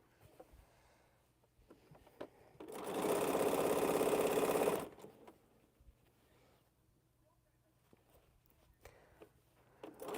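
A sewing machine stitches quilt blocks in one loud, steady burst of about two seconds, set between quieter stretches of faint handling clicks and rustles.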